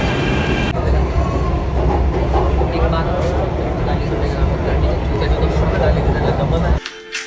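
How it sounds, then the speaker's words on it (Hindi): A metro train arriving at a station rumbles loudly and steadily with rattling wheels, then cuts off abruptly near the end, leaving a brief quieter moment. "तो गाइस मेट्रो आ चुकी है अपनी,"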